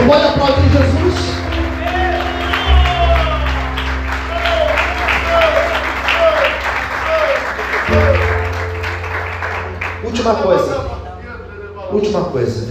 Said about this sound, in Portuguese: Você pode aplaudir Jesus?